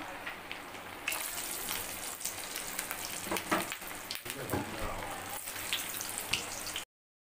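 Kebabs frying in a pan give a steady, close crackling sizzle with scattered pops and spatters, running without a break until it cuts off just before the end.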